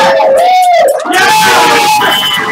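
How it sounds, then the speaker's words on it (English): A live game show crowd cheering, with loud, close screams and yells that rise and fall in pitch and run on continuously. "Cheer on, everyone!"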